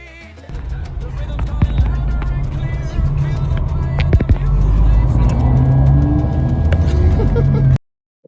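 Bus engine droning as it drives along a road in Egypt, a steady low rumble with road noise heard from inside, loud and continuous before cutting off abruptly at the end.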